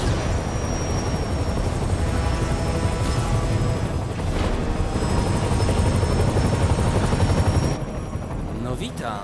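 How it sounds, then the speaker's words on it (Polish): Helicopter in a Spider-Man video game: a loud, continuous rotor thump and engine roar that fills the scene, with a high whine running above it and brief bursts of game effects, with no pause throughout. "Jeszcze tam jest helikopter."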